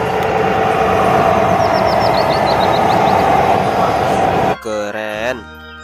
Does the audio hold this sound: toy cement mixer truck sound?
yes